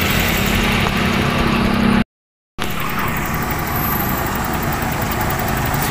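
A used car's engine idles quietly and steadily for sale at a lot in Dasmariñas, Cavite, a smooth even hum broken by a short gap.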